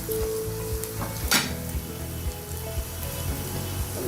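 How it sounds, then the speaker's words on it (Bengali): Cinnamon sticks, cardamom pods and bay leaves fry in hot oil for a chicken roast, giving a steady close sizzle with a brief louder burst and light pan clatter, with no talking. "তিনটা তেজপাতাকে মাঝখানে ছেড়ে দিচ্ছি, দিয়ে ভালোভাবে ভেজে নিচ্ছি।"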